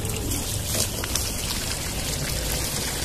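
Water flows from a pipe into a container in a rooftop garden, a steady, dense rushing pour heard close up without pause or voices.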